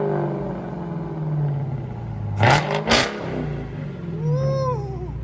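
A Dodge Challenger Hellcat Red Eye with a 6.2L supercharged HEMI V8 and an aftermarket exhaust idles in a deep rumble. It then snaps through two sharp, loud revs close by before settling back.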